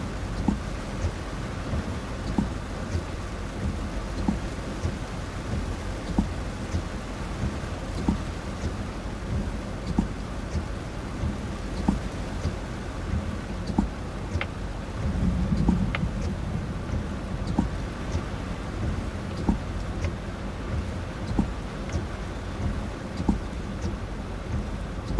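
A thunderstorm in eastern Oklahoma or western Arkansas: steady rain patters on a surface with scattered drops, and a brief low thunder rumble swells near the middle, all without voices.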